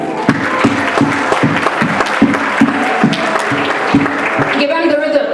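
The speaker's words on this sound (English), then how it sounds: "Can we clap?" Audience clapping at an expo ceremony, steady dense applause with a few sharper rhythmic claps, loud and close, continuing for several seconds before thinning near the end.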